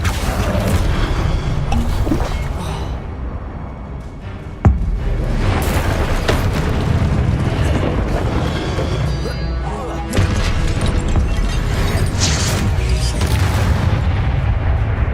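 Booming spell explosions from the Confringo curse in the video game Hogwarts Legacy, heavy continuous blasts and crashes with a sharp impact near four and a half seconds, a speaking voice mixed in.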